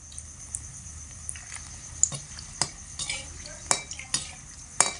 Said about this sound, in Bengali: একই তেলের মধ্যে 4টে গোটা শুদ্ধ শুকনো লঙ্কা দিয়ে দিচ্ছি গোটা